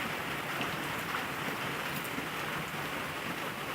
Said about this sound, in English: It has been raining and raining and raining for so long.